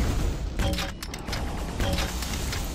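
Grenade launcher firing in low gravity in the Quake 2 deathmatch, a steady dense roar of game noise with several sharp blasts and bursts at irregular intervals, loud throughout.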